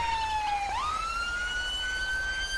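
EMS emergency vehicle siren in GTA 5, a single steady electronic tone that dips and then rises into a sustained wail, fairly close and alone.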